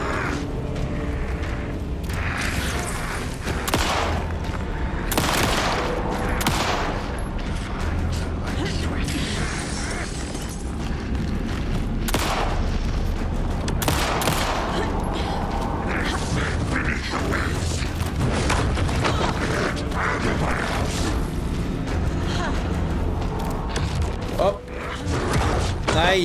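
Repeated sharp gunshots from the video game Alan Wake 2, loud and punchy, mixed with mechanical clicks and dense game noise, with a voice talking over it.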